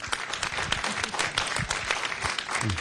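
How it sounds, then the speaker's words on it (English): Steady applause fills a council meeting room, a continuous wash of clapping from the audience that holds at an even level throughout the short stretch. "I would give them a round of applause"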